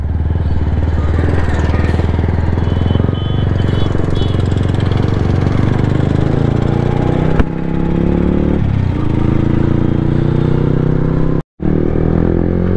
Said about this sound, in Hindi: बाइक बहुत दिनों बाद चला रहा हूँ